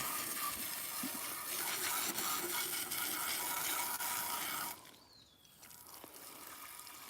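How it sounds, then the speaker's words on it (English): Water sprayed from a hose across the ground outdoors for deer, a steady broadband hiss filling the first few seconds before it abruptly drops to a quieter, softer stream. "See there, I gotta give them some dirty, fresh water"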